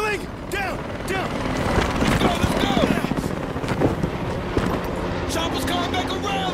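Helicopter in the video game Battlefield 4, a rotor thumping under a chaotic battle mix of gunfire and shouted voices, loud and sustained.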